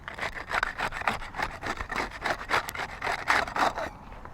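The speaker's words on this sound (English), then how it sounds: "We'll use the putty knife on this top shingle here." A putty knife works under roof shingles to unseal them, making a steady, rhythmic scraping and rasping at close range. The strokes come in quick succession for several seconds.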